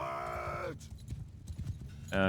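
Cavalry horses on the move in Mount and Blade II Bannerlord give a soft, steady patter of hooves under a tonal game sound at the start and end, faint and blended with battlefield ambience.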